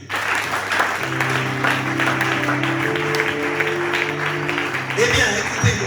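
A church congregation breaks into steady applause during a worship service, the broad clapping continuous for several seconds alongside sustained musical tones, with a voice also present.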